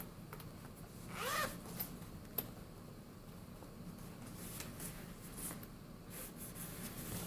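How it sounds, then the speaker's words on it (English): The zip pocket of a LUX PRO A5 productivity planner is zipped in one short, close rasping pull near the start, followed by quiet handling noises. "It's got a zip pocket here."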